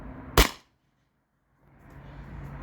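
A single sharp crack from a Beeman BP50 CO2 air pistol fired outdoors through a chronograph, then near silence and faint outdoor background.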